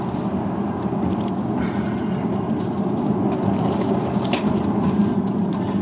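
Tesla Model 3 electric car driving hard through tight curves on a demanding road with dirty asphalt, giving a steady, loud in-cabin rolling rumble and road noise with no voices.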